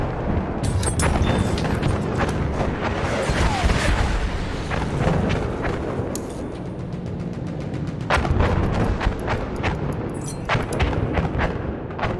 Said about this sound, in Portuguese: Bomba nele! Bomba nele!